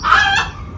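A single short, loud crow or squawk from a chicken kept in a home yard, close to the microphone and lasting under a second.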